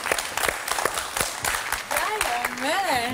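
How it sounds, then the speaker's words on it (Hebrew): Studio audience of a television game show bursting into scattered applause, sharp claps up front before a voice talks over the fading clapping. "תנו לו כפיים!"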